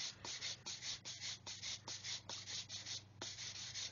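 Fine sanding sponge smoothing the long seams of a 1/144 Revell Saturn V plastic model kit, close soft rhythmic scrubbing strokes, about two per second, alone without talking.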